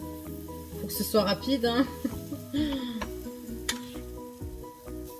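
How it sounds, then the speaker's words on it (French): Yogurt pancake batter spread in a frying pan over high heat sizzles steadily at close range, with brief utensil clinks, while a person talks throughout. "on en étale le plus possible dans la poêle"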